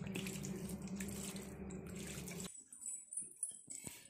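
Small amounts of water are poured onto potted plants, a soft rushing splash for a couple of seconds that cuts off, followed by faint scattered drips and trickles.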